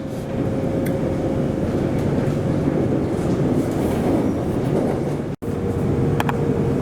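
An HCMT train travelling on the Dandenong line in Melbourne, a loud continuous rumble and hum from inside the carriage with a steady motor whine, a faint click partway through, no voices.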